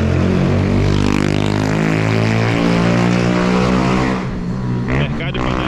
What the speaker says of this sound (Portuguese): A moto barulhenta.